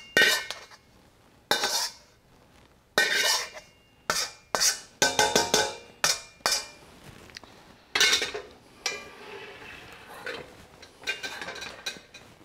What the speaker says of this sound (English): let's take our daikon and we'll add it all in to the slurry